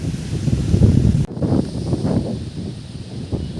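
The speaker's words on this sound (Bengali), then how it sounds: "আর হাওয়াও দিচ্ছে জোরে" Strong wind sweeps through an open rural village as clouds gather before rain, roaring as a loud, steady gust against the microphone with some rustling, and nobody is talking.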